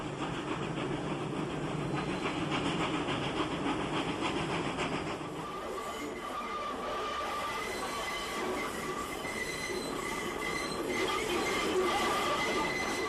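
The Union Limited passenger train rumbles across a railway bridge where the Kaaimans River meets the sea in South Africa. Wheels clatter steadily and metallic squeals ring out over a continuous rolling rumble.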